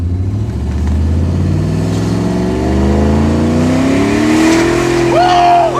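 A car with a homemade nitrous setup accelerates hard from 3,000 RPM, its engine note climbing steadily in pitch as it pulls, loud and close, with a brief tone near the end.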